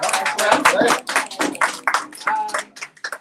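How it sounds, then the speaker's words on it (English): Audience applause at a 25th-anniversary children's storytelling event at a shop near Howard University, a dense burst of many hands clapping that swells and then thins out over a few seconds, with some voices mixed in. "Please clap it up"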